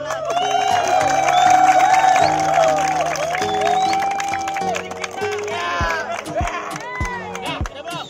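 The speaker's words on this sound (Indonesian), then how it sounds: "Tepuk tangan yang meriah." Crowd at an outdoor kite festival applauding and cheering loudly, with shouts and whoops mixed into steady clapping and voices nearby.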